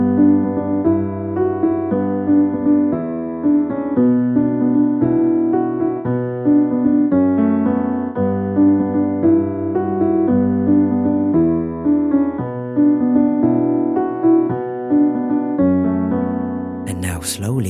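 Piano playing the interlude melody of a song at normal speed, a clear, close, steady melodic line over sustained bass notes, loud and alone, ending in a brief noisy burst.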